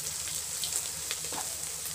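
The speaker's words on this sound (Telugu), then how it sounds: "ఇవన్నీ వేసి వేపాలండి." Masala for gulab jam kaju masala sizzles and fries in a pan with a steady, close hiss and faint crackles throughout.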